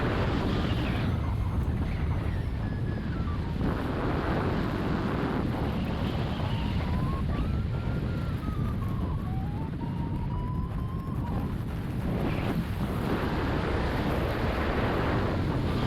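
Steady roaring wind buffets the open cockpit of an Atos hang glider flown into a headwind along a ridge, a continuous broadband rush with faint tonal whistles drifting through it, loud and unbroken for the whole stretch.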